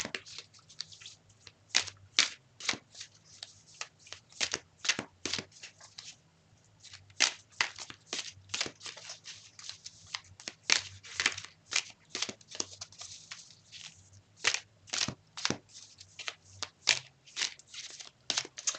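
Tarot cards being shuffled and drawn, a long run of crisp riffling snaps and papery flicks in an uneven rhythm. The sound is close and steady over a low background hum, with no voices.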